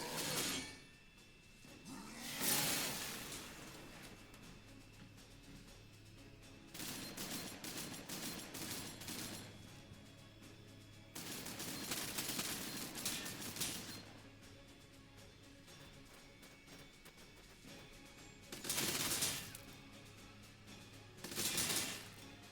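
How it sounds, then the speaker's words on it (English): Gunshots from units in Warhammer 40,000: Sanctus Reach crack out in several separate loud bursts of fire, spaced apart over the stretch with quieter battlefield noise in between. "Pretty nice shots here on the poor Ogrins."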